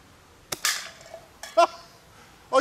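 A Reximex Mito PCP airgun fires three sharp, close shots, each a short crisp pop with a brief metallic ring, spaced about a second apart against near silence.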